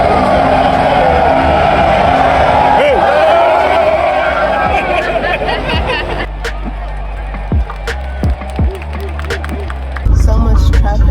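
Busy road traffic in Ghana: a steady rumble of vehicles and engine noise, with several short horn-like bursts and passing cars, all beneath people talking close by.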